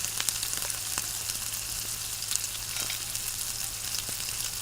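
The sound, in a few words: dry-roasting tea masala spices on low flame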